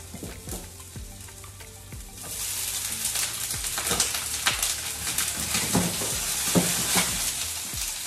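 A few onions frying in a pan, starting with sparse clicks of stirring, then a loud, steady sizzle that swells and crackles continuously with occasional scrapes of the spoon.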